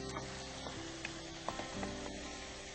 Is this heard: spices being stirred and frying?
yes